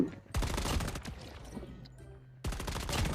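A Type 25 assault rifle in Call of Duty Mobile fires two loud, rapid automatic bursts separated by a short pause, each a dense rattle of close shots.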